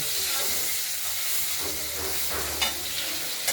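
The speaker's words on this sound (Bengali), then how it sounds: "আলুটা হালকা হলুদ করে ভেজে নেব।" Potatoes frying in oil until lightly golden for a paneer curry with tomato and stone-ground spices, a steady close hiss and sizzle with a few brief clinks of stirring toward the end, no talk.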